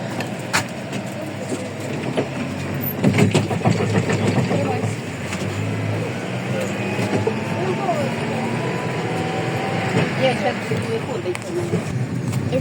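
A car drives along a city street past a stadium, its engine a steady low rumble from inside the cabin, with people talking over it throughout.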